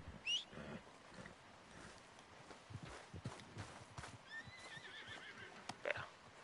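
A horse in the video game Red Dead Redemption 2 gives a sharp whinny near the start and another quavering neigh later, with soft hoof clops and rustling ambience between the calls.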